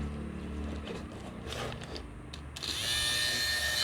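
A 12V DC motor grinds a patch of bicycle inner tube for puncture repair, a steady close whine with rubbing that rises to a brighter, louder high-pitched grind partway through.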